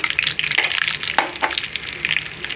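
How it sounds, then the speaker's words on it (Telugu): Cashews frying in hot oil in a pan, a steady close sizzle with light crackling and a few stirring scrapes running throughout. "కొద్ది జీడిపప్పు వేయించుకుందాం ఆయిల్ అయితే కాగింది దోరగా వేయించుకోవాలండి"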